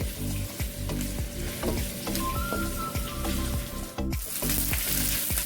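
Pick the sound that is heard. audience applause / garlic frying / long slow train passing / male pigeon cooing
garlic frying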